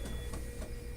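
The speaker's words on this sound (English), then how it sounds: "This is the sound of my work's shitty Panasonic scanner" A worn-out Panasonic office scanner runs in a steady mechanical whir with faint rhythmic pulses, recorded on a phone for about a second without pause.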